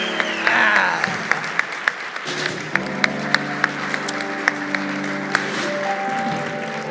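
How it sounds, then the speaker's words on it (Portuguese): Studio audience applause at a talk show, with sustained dense clapping from a crowd at moderate volume and a steady, continuous wash of hand claps throughout. "Bastante palmas para ele, gente."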